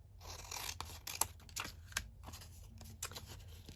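Scissors cutting paper for junk journal fillers, a quick series of crisp snips and rustling paper handling, close and fairly quiet.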